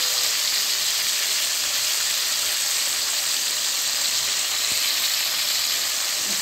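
Potato pieces fry with salt and turmeric in a pan for a curry, giving a steady, loud, continuous sizzling hiss that does not let up, close by and with no voices.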